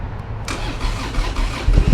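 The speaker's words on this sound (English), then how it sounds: "All right, here we go. Firing it up." A 2011 Triumph Thunderbird 1700 parallel-twin motorcycle cranks and fires up, then settles into a loud, rumbling idle with a burst of revs near the end, heard close and alone.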